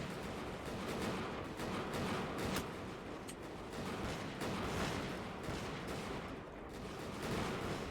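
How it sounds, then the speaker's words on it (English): Dense musket volleys crackle nonstop during a castle siege in Bannerlord, a video game set in Europe around 1700, with overlapping shots rolling together into a loud, continuous fusillade. "Keep firing, men! Keep firing!"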